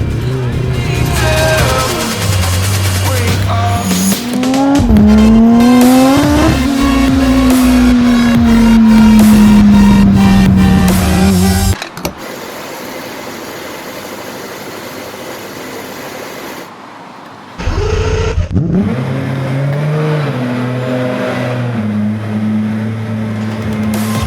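An Aston Martin Vulcan race car engine roars loudly and revs with rising and falling pitch, then drops to a quieter rumble before growling back up.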